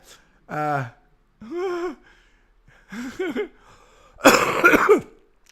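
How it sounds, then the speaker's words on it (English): A person nearby produces several separate throaty coughs and raspy clears with pauses between, the last burst harsher and noisier. "I'm still coughing"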